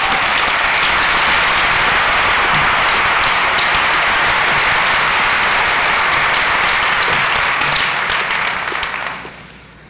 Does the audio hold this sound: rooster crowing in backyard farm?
no